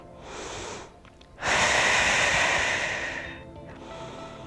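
Slow, deep breaths during a prenatal yoga session: a soft exhale, a brief pause, then a long, loud, airy breath held close to the microphone before fading.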